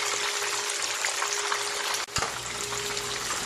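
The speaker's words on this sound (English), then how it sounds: "So let the fish continue frying." Parrot fish fries in hot oil for Jamaican-style crispy stewed fish, a dense close sizzle and crackle that runs steadily throughout, with a brief clunk midway and no talking.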